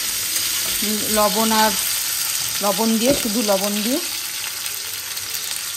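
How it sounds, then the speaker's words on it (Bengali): Potatoes fry and get stirred in a pan, a continuous close sizzle running beneath a person's speech that comes in two short bursts. "তো আলুগুলোকে একটু ভালো করে ভেজে নিয়ে"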